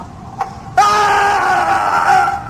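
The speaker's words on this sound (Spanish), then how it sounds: "Se oyó un grito." A single loud, sustained scream in a Spanish audiobook reading rises abruptly after a short faint sound and holds for nearly two seconds before fading.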